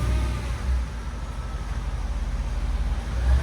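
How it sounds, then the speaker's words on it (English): A supercharged 5.5-litre V8 in a Mercedes E55 AMG with long tube headers and a cat-back exhaust hums at a steady idle, a low rumbling pulse, moderately loud and close, with a slight swell at the end. "E55 AMG with long tube headers"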